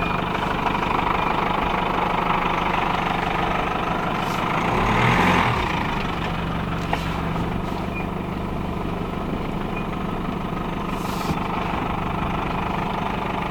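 A truck engine idles steadily and loudly throughout, with a brief swell of effort midway as the four-wheel drive disengages, the drone continuing alone without talk.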